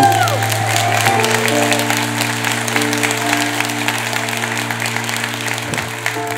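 A Catholic congregation at a Pentecost vigil claps steadily, the broad applause running throughout over a sustained low organ or keyboard drone, with some crowd murmur.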